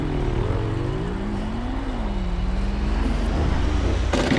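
A truck in GTA V drives steadily, its engine note rising and falling gently with a low rumble and road noise, loud and close, ending in a brief burst of noise; no speech.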